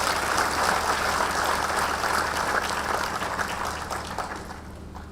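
An audience applauds students at an international science fair awards ceremony, a broad sustained wash of clapping from a large hall crowd that fades slightly toward the end.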